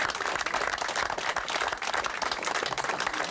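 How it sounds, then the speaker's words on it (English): Steady applause from an audience at a park dedication ceremony, dense clapping filling the whole stretch at moderate volume with no voices over it. "Joan deserves a very big round of applause."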